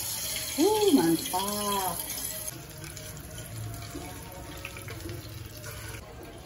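Fried ingredients poured out and drained in a home kitchen, a steady watery pouring and trickling hiss lasting several seconds, with a voice exclaiming briefly at the start and soft clatter throughout.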